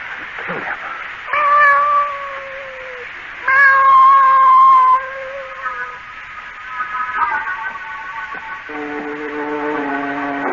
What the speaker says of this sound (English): I'm bringing this cat in here.